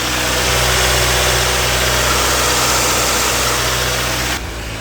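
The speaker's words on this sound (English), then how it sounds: "A Miata that was abandoned for many years is now up and running" A Mazda Miata, abandoned for years, idling steadily right after its fuel pump was replaced, a close, loud, even engine drone with a slight drop in level near the end.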